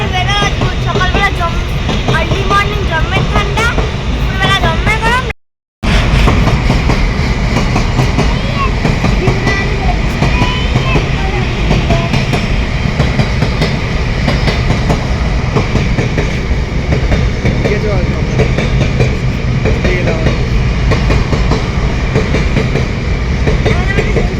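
A train rumbles and clatters past loudly and continuously, with faint voices mixed into the roar.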